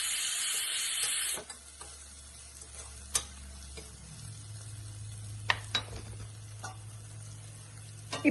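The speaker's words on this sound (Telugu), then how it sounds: "కొంచెం జింజర్ గార్లిక్ పేస్ట్ వేద్దాం. మిక్స్ చేద్దాం." A pan of spinach curry sizzles, then ginger garlic paste is stirred in, soft frying hiss with scattered close clicks and scrapes of the spoon against the pan.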